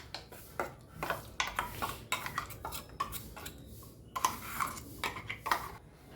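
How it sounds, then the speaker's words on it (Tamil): Utensil strikes and scrapes against a cooking pot as dal and curry leaves are mixed for Thiruvathirai kootu, a series of irregular clinks and taps, fairly close but quiet, with short pauses between strokes and no voices. "இது எல்லாத்தையும் ஒன்றா கொட்டி கருவேப்பிலை எடுத்து வச்சுருக்கேன், போட்டு மிக்ஸ் பண்ணி ஒரு கொதி விட்டுடலாம்"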